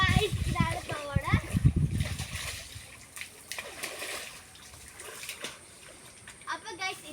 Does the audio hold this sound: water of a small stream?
yes